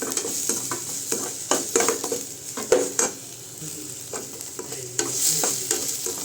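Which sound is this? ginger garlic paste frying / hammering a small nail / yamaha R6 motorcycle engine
ginger garlic paste frying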